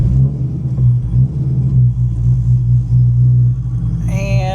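A 5.7 HEMI car cruising down the road, its engine a steady low rumble throughout, with a brief higher whine near the end.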